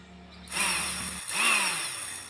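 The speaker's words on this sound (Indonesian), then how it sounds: "ini dia bor mini yang kita buat" A homemade mini drill built from a 775 DC motor and run on a 12 volt supply whirs up loudly in two close bursts of high-pitched spinning, each easing slightly, with no voices.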